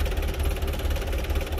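A tractor engine runs steadily at a close, constant drone with a low throbbing pulse and no voices over it.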